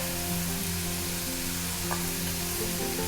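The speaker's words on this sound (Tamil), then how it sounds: "இட்லி நல்லா பொரிஞ்சிருக்கிறத எடுத்துடலாம்" Masala idli pieces frying in hot oil in a pan, giving a steady, close, continuous sizzle with a faint bubbling hiss throughout and no talking.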